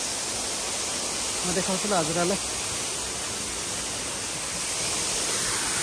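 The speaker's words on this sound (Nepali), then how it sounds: "पानी ठुलो आइरहेको छ गाइस। हेर्नुहोस्, वा, हेर्नुहोस् छाल त्यहाँबाट" A strong, swollen river with waves rushes near Kageshwori temple, a loud, continuous broadband roar throughout. Someone speaks briefly over it.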